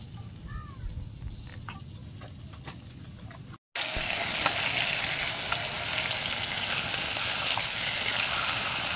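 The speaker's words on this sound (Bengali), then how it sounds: "লবণ হলুদ দিয়ে মাছ আর মাছের মাথাগুলো ভেজে নেব" Fish and fish heads coated in salt and turmeric frying in hot oil, a steady close sizzle that cuts out for a moment, then returns louder and denser.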